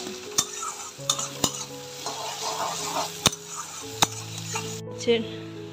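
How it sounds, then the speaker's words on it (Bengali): Sliced onion sizzles in hot oil tempered with nigella seeds and dried chillies, a constant frying hiss broken by several sharp metallic clinks as a spatula stirs the pan. "এবার কালো জিরে ফোড়ন, শুকনো লঙ্কা ফোড়ন দিয়ে পেঁয়াজ কেটে দিয়ে দিলাম।"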